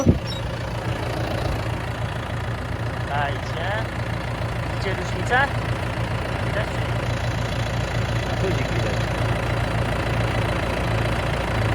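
A steady low engine idles throughout, rumbling without change while a person speaks briefly over it.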